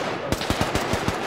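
A machine gun fires in the military shooter game Arma 3, a rapid loud burst of about seven evenly spaced shots over steady background noise, with no talking.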